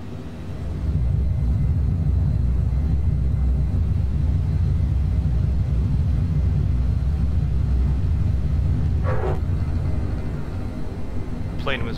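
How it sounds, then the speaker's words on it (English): A Eurofighter Typhoon jet takes off in Microsoft Flight Simulator, a steady loud low engine roar rising to full power and holding throughout, with a couple of brief higher sweeps near the end. "The plane was very eager to get off the ground."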